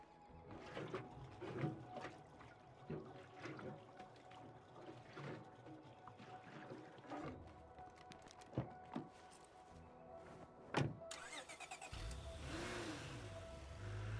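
Car engine idling and revving in the State of Decay 2 video game, a rumbling mid-pitched engine with intermittent knocks and thumps, rising into a louder, steady roar near the end, with no talking.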